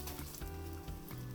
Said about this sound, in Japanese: 今ですね鉄フライパンで焼いてるので煙が上がってきてる